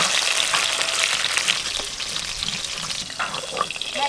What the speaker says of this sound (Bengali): মাছ তো হালকা করে ভেজে নিলাম